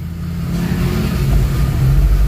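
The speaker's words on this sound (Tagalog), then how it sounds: "paandarin natin makina, and then let's start" A Toyota RAV4 engine being tested after a cranking-but-not-starting fault gives a loud, close, continuous mid-pitched run that rises steadily in intensity over a couple of seconds.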